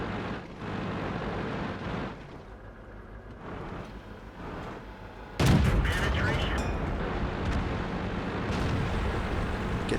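Tank gunfire in the World of Tanks video game, a T37 light tank battling on the Murovanka map: a sharp, loud blast hits midway and rumbles on under steady engine and battle noise.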